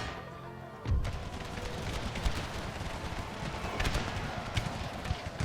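Volleys of musket and artillery fire rattle on in an American Civil War battle game, setting off with a sudden burst and then keeping up a dense, continuous crackle of shots and thuds, with hoofbeats mixed in.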